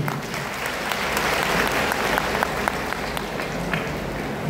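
Loud, sustained applause from a seminar audience, many hands clapping in a dense continuous roar that holds steady for the whole stretch, with faint voices mixed underneath.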